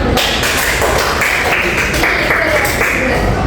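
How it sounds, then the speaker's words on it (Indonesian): Classroom applause from a group of students in a tenth-grade science lesson, a dense continuous patter of hand claps lasting the whole clip with background noise. "Ini boleh dikasih tepuk tangan."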